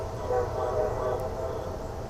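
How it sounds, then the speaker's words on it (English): A train rumbles past in the distance behind a house's backyard and screened porch in Del Ray, Alexandria, Virginia, a low steady rolling drone that holds throughout. "can hear like the train in the background"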